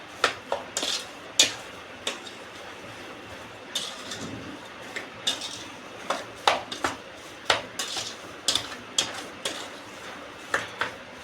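Soybean chilli is mixed with spices in a pan, with repeated clinks and scrapes of a spoon against metal in an irregular rhythm over a faint low background, close and without voices.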